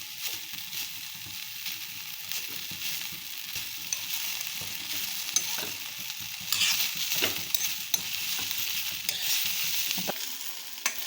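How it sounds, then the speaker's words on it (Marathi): Cluster beans roasting in a dry pan give a steady, close sizzle with scraping stir strokes throughout, a few sharper clicks and rattles standing out, and no talk. "भाजत आले आणि थोडंसं 2 मिनटं भाजून काढून घेऊया."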